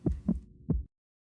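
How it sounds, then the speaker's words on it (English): A mouse's heart pounds furiously as a sound effect in a visual novel game: three quick, muffled low thumps in an uneven rhythm, close and soft, ending abruptly in silence. "that is the familiar sound of a mouse's heart beating furiously, wildly, madly"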